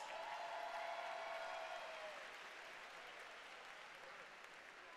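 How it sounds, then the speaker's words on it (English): Spectators at a high school swimming championship finals applaud in a steady wash of crowd clapping that fades slightly, with a brief whistle-like tone early on and no clear talk. "Give her a round of applause."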